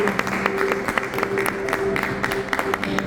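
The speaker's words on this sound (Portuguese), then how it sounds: "Vamos ter uma salva de palmas do Senhor." A church congregation applauds steadily, scattered claps overlapping in a continuous patter, with a faint sustained tone beneath.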